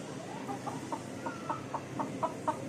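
A chicken clucks in a quick, regular series of short calls, close and moderately loud over faint background noise.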